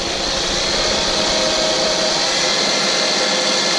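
A machine runs up to about 2,000 RPM, a loud, dense whirring roar that builds slightly and holds steady throughout, with no talking.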